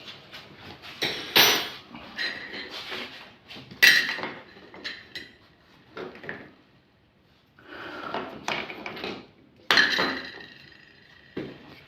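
Metal parts clink and clatter while a rack bolt is taken out during a wall-hung toilet installation, with scattered sharp knocks and rattles separated by quiet gaps.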